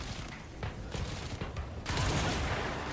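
Gunfire in the video game Control comes as a rapid close burst of shots, a dense crackling fusillade that swells louder toward the end, with no voices.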